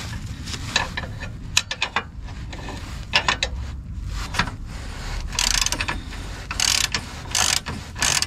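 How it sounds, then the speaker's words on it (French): A ratchet wrench loosens a rear engine mount bolt on a Renault Kangoo, producing close, irregular clicking ratchet bursts and metallic clacks. "Voilà, je vais dévisser"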